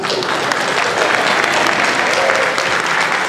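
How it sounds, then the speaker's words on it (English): Loud, dense applause from a convention panel audience fills the room steadily for a few seconds, with no voices standing out above the clapping. "Applause from all the Muffy Mutt lovers out there."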